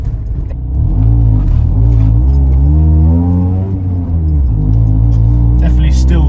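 A Honda K-series engine in a cheap project car, running without an exhaust fitted, loud and close, its tone climbing through a rev before settling back; someone speaks briefly at the start.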